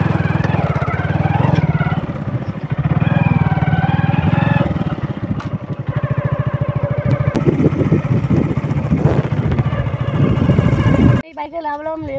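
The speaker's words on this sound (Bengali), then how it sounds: "দেখো তোমাদের দাদাভাই বাইক চালিয়ে নিয়ে যাচ্ছে" A motorcycle is ridden along a river embankment road near the Sundarbans forest, its engine holding a steady, close, loud drone for most of the ride. Voices talk over it before the engine cuts out near the end.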